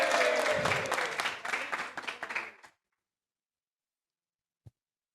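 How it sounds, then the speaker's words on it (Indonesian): Applause at a stand-up comedy final, welcoming a newspaper handicraft made at Bangli prison; dense clapping from a live audience for about two and a half seconds, thinning out and then stopping abruptly, followed by silence and a single faint knock. "Tepuk tangan dulu"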